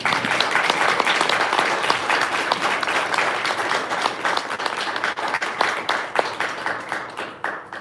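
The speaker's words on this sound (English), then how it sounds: "Can we give a round of applause to all of you?" Loud, sustained applause from a large audience, thick continuous clapping that thins slightly toward the end into more distinct individual claps.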